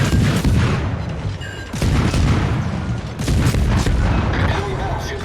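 Naval guns fire in World of Warships during a US destroyer match, with loud, deep booms and rumbling salvos that roll continuously under steady battle noise.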